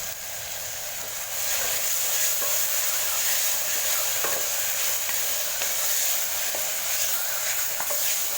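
Steady sizzling and frying of coriander in a pan, with occasional scraping stirs and clicks of a utensil throughout.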